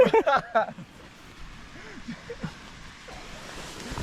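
A waterfall near a mountain campsite on a Mercantour lakes trek gives off a steady broadband rush of falling water. Brief talk comes at the start and faint voices follow.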